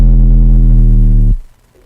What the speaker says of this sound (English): It's a square wave, again,